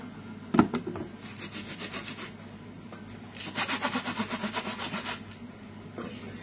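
A fish is scrubbed with soap, making rhythmic rubbing strokes in bursts, with a sharp knock near the start and brief pauses between strokes.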